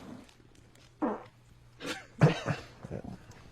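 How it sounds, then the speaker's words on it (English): A fart from a studio radio show lands as a few short, rough, low bursts with a louder blast near the middle, close and unaccompanied by talk. "And the fart ends the segment, I do believe"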